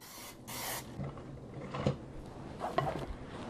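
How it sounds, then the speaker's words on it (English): Non-stick cooking spray hisses into a casserole dish in a home kitchen, a short close burst followed by softer handling and clinking noises. "I'm going to just spray it lightly."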